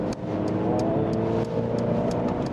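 Mercedes-AMG CLA 250 sedan accelerating gently in comfort mode, heard from inside as a steady engine hum and road drone with light clicks above, with no speech.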